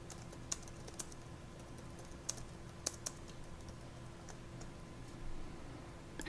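A name being typed on a computer keyboard, faint and sparse individual keystrokes clicking at irregular intervals over a quiet background hiss, with no voices.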